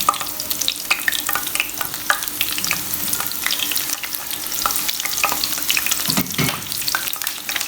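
Ginger and green chilies frying in hot oil for Lahori chickpea curry, a steady close sizzle with stirring clatter and scrapes throughout, a louder burst near the end.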